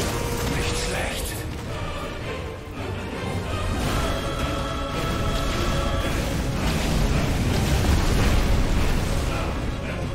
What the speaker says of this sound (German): um die Größe und Stärke der Explosion zu erhöhen